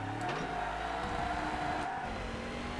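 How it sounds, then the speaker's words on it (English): A car in the ToCA Race Driver 3 video game spins its wheels in a British GT race, engine roaring loudly with a sustained tire squeal across the whole moment. "Bloody wheel spin in this car is atrocious."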